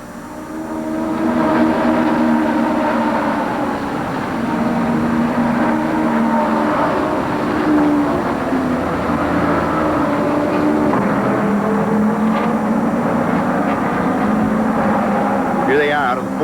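Indy race cars roar off the line at the green flag of the 1972 Michigan 200, a continuous loud engine drone under a steady commentator's voice.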